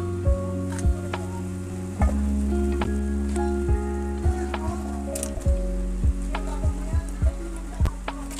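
Banana heart frying in a pan, a loud continuous sizzle with regular clicks and scraping knocks from stirring, close up and without talk.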